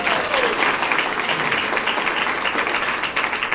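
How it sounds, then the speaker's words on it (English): Lecture audience applauding at the Wilma Dykeman Stokely Memorial Lecture, a dense, steady wash of many hands clapping throughout, loud and sustained with no talk over it. "Applause."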